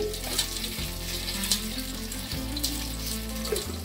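Fenugreek seeds crackle and sizzle in hot oil for tempering, a close, continuous frying hiss with small pops, unbroken and without voices.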